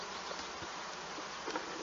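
Honeybees swarm around an apiary hive at a teaching apiary in Centrès during the season's first inspection, a dense, steady buzz that stays close and loud for the whole stretch, with no voices.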